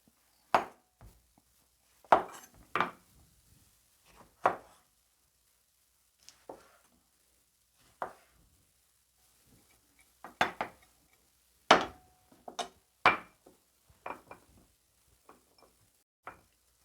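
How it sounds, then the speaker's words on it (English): Knife slicing a lemon on a cutting board in a kitchen, sparse sharp taps and cuts at irregular intervals, close and fairly quiet, with silence between strokes. "So let's start cutting this lemon up."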